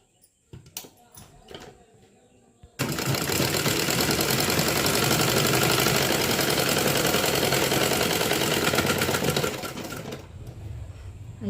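A sewing machine stitching blouse fabric at a half-inch seam, starting after a few handling clicks and then running in one loud, continuous fast rattle for about seven seconds before slowing and stopping.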